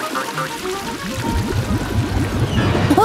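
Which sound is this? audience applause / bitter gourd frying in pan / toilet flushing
toilet flushing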